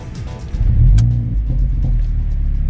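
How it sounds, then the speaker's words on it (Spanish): Mercedes-AMG A45 hot hatch engine starting up close, a short cranking burst followed by a loud, deep rumbling idle. "ahora vamos a escuchar qué tal suena este AMG cuando lo aceleramos"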